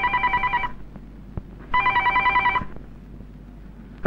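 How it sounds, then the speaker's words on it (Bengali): A landline telephone bell rings in two loud trilling bursts with a short silent gap between them, clear and nearby. "এই এই টেলিফোন বাজে শোনা পারস না"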